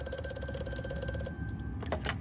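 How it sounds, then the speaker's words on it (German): Telephone ringing inside the horror video game Amnesia: A Machine for Pigs, a steady bell-like ring with stacked tonal overtones that runs for over a second, then cuts off into dark ambient rumble and scattered noises. "wir gehen jetzt erstmal ans Telefon"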